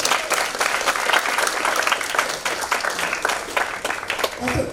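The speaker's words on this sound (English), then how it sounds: "Another round of applause for Dato'." Applause from a symposium audience, a full, lively crowd of rapid clapping that stays loud and even throughout before easing slightly at the very end.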